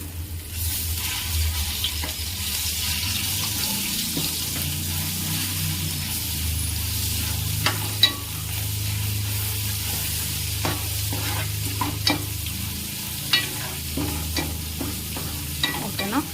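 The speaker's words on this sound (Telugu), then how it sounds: "ఈ అల్లం అనేది ఆయిల్లో మంచిగా ఫ్రై అవ్వాలి" Chopped ginger fries in hot oil in a pan while cooking chicken chukka fry, with a steady sizzle and scattered clinks and scrapes of stirring building up toward the end.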